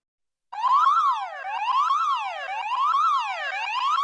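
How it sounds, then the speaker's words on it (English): A recorded emergency siren starts abruptly after a brief silence and then wails steadily, its pitch sweeping up and down roughly once a second, loud and unbroken to the end. "I've now got a siren."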